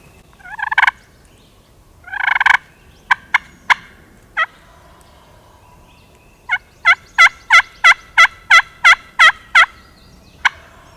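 A wild longbeard turkey gobbles loudly a couple of times outdoors, followed by a rapid, evenly spaced string of sharp yelping calls, with quiet woodland between.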